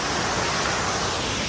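A waterfall gives a loud, steady broadband roar of rushing water that fills the whole moment without any break.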